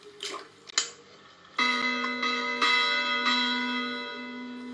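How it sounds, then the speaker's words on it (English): A few soft splashes, then a bell rings out clearly, struck several times with long shimmering tones that slowly fade. "In the meantime, Lars retrieved the ding-dong from the water and was ringing the bell."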